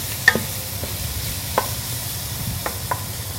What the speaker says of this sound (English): We're going to stir again.